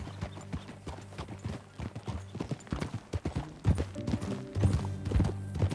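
Horse hooves clip-clop in the video game Red Dead Redemption II, an irregular series of close, clear hoofbeats that grows denser and louder toward the end, with no speech.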